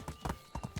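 Horse hooves clip-clop in the video game Medieval Dynasty, a quick rhythmic series of close hoofbeats in pairs, with faint background under the steps.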